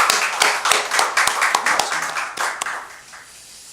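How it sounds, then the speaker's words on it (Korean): A church congregation claps in welcome during a Sunday sermon, a burst of sharp, fairly dense handclaps that thins out and fades over a few seconds. "박수로 한번 환영합시다"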